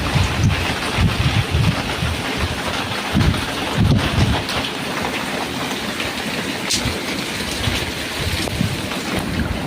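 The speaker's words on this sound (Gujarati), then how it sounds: "ઝીણો ઝીણો વરસાદ ચાલુ છે." Light, fine rain falls steadily in a village, a soft continuous patter with gusts of wind buffeting the microphone and no voices.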